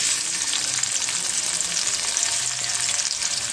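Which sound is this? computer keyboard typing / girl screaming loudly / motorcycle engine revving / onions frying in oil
onions frying in oil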